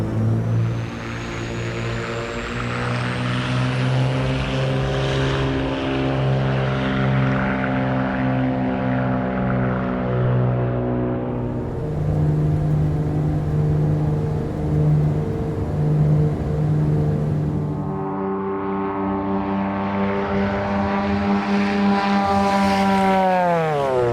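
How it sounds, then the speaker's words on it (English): A twin piston-engine Beech Duke roars steadily in a flight simulator, dense buzzing propeller harmonics swelling and settling as power shifts, with a thin rising turbocharger whine on top. Loud, close and continuous, with no voices. "The engine roar and prop tips are almost deafening, and the turbocharger whine is glorious."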